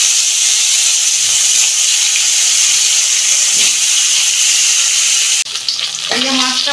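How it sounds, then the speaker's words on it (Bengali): Fish sizzling as it fries in hot oil for a homestyle fish curry: a loud, constant crackling hiss that runs unbroken, briefly dropping near the end as a voice speaks over the continuing sizzle. "তেল গরম হয়ে গেছে, মাছটা ভেজে নিই।"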